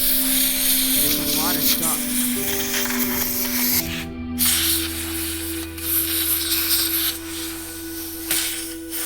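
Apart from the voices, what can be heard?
spraying cleaner on a PS4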